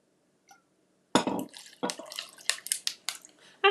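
Cold brew concentrate pours into a measuring cup in a liquid splash with trickling, glassy drips and small clinks, close and fairly loud, starting after a second of near silence.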